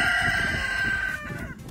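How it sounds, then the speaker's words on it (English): A rooster crows in the afternoon in one long, loud, sustained call close by. It fades after about a second, leaving faint background noise. "It's 3 in the afternoon and they're crowing a lot."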